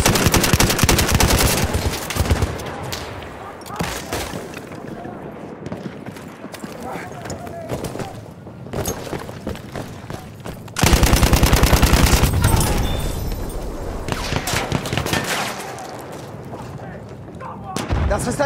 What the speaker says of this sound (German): Feindliches MG! Bin hier auf den MG geschossen!